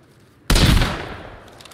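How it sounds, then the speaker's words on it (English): Single loud shotgun blast in the Sons of the Forest video game, a sharp sudden crack followed by a decaying rumble and echo, heard alone without talk. "I've got Virginia standing behind me with a shotty, blowing everything up."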